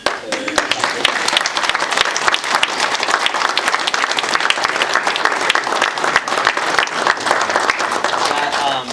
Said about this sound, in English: So if we could just give a round of applause to